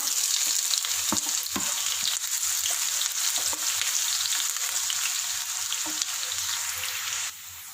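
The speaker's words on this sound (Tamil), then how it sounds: "இப்போ நம்ம எண்ணெயில் சேர்த்து ஆனியன் டாப்பிங் பண்ணி எடுத்துக்கலாம்." Sliced onions fry in hot oil for prawn biryani, a loud, steady close-up sizzle with occasional stirring clinks, continuing alone before easing off near the end.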